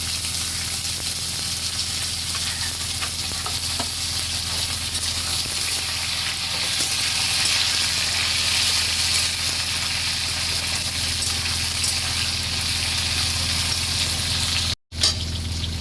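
Carrot and papaya pieces fry in hot oil in a pan for Bhoger Labra, a steady, loud, continuous sizzle that carries on without a break and with no talking.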